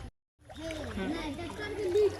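Water splashes and swishes steadily as someone wades through thigh-deep floodwater in a flooded village in Araria, Bihar, with voices talking over the sloshing.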